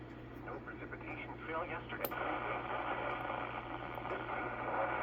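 Radio static from a Stryker SR-655 HPC+ radio: a steady, fairly loud hiss over a low hum, with faint garbled fragments breaking through now and then.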